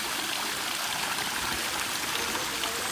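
A pool waterfall in a Dominican Republic residential complex runs in a steady, dense rush of splashing water, close and constant throughout.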